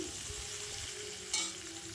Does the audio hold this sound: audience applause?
no